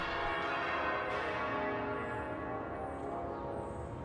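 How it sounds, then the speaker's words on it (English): Church bells ring out together in a rich, sustained peal, overlapping tones sounding continuously and fairly close, with no voices. "the 13 smaller bells that regularly peal out across the city"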